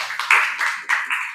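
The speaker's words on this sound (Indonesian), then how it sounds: "Tepuk tangan untuk kelompok 1." Classroom applause for the first group: a few people clap in short, uneven bursts, close by and fairly sparse rather than a full ovation.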